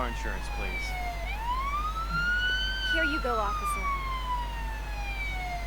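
An emergency siren in the Police Simulator video game wails in slow rising and falling sweeps. It is clear and moderately loud, with some faint background game sounds.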